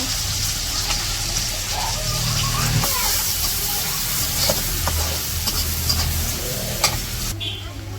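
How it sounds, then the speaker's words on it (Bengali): Onions and green chillies sizzle and crackle in a hot pan, with occasional stirring scrapes over a steady frying hiss. "তো পেঁয়াজ কাঁচামরিচ ভাজা হয়ে গেছে,"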